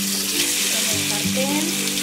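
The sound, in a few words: chicken frying in a pan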